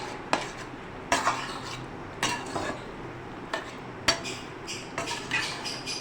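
A spoon scrapes and clanks against a pan while stirring cornflour into an okra masala, with repeated sharp metallic taps at an irregular rhythm over a soft background, close and clear, no talking.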